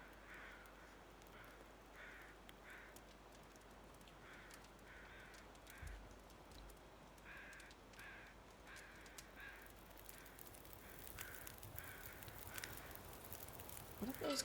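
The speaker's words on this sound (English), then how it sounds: "What are those crows crowing about?" Crows caw in a steady series of harsh, repeated calls in the wintry wilderness of the survival video game The Long Dark, sounding moderately distant over a low wind-like background hiss.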